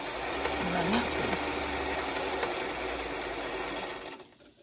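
A sewing machine runs steadily and loud, stitching 2.5-inch quilt squares for a hometown quilt block, a continuous close mechanical whir that winds down at the end.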